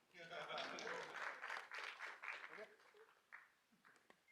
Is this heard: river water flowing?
no